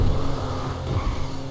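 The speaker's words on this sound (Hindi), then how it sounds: "ओए तुम लोगों को हैवी बाइक की आवाज आ रही है" A heavy motorbike engine in GTA 5 roars steadily and loudly at close range, with a deep, throaty exhaust note that swells briefly, heard alone.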